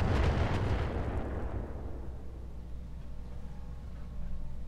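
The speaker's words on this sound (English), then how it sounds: "That went off like mortars" Explosions in the BattleTech mod Roguetech going off like mortar fire, a heavy low booming blast up front that rumbles and decays slowly over several seconds, with no voices over it.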